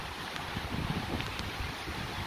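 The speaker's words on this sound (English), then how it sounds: "It's just nice and windy." Strong gusting wind at the Nu‘uanu Pali Lookout buffeting the microphone, a loud continuous broadband roar that swells and dips in short gusts, with no voices.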